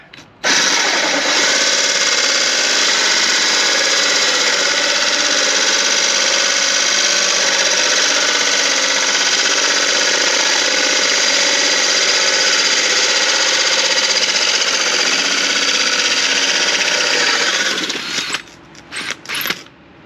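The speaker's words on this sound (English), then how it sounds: "So we're now starting to cut the holes for our down lighters." A power drill with a new hole-cutting bit boring through plywood roof panels inside a Sprinter van, loud, close and continuous for about eighteen seconds before winding down.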